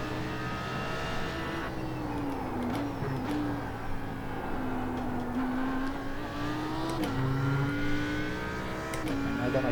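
Audi R8 GT3 race car engine held at half throttle at Sebring in iRacing, a steady loud drone whose pitch dips and climbs with gear changes over nearly ten seconds, with brief higher whines and no talking.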